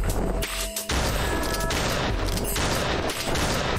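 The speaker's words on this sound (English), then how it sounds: "Oh my god, Santa's shotgun" Santa's shotgun blasting in a snowman-fighting video game, a rapid string of loud, close gunshots with booming impacts, packed densely with only one brief gap.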